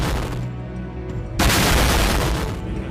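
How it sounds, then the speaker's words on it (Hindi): Explosive-laden FPV drone strikes on a position held by Israeli soldiers in northern Israel, heard as loud, continuous booming and crackling blasts that swell sharply partway through and stay dense and rumbling to the end. "विस्फोटक से लदे ड्रोन इजरायली सैनिकों की ओर से ऑपरेट एक जगह पर बरसे।"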